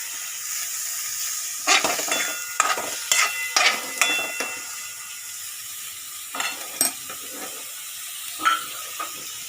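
Tomatoes and vegetables fry in a pan for noodle khichuri, giving a soft hissing sizzle with scattered clinks and scrapes of stirring. The sounds come in short bursts between quieter stretches.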